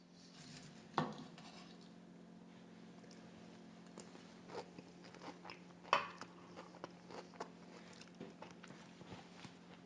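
Someone tastes a salad of sous vide artichokes and navy beans with crispy garlic chips and fried shallot, giving quiet bites and soft chewing with a few light clinks of cutlery and dishes, no talking.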